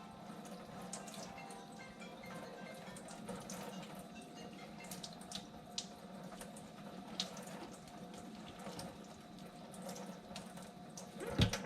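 Fresh raw butter is rinsed under a running kitchen tap, a steady low water flow with soft splashes and occasional drips, fairly quiet and without any talk.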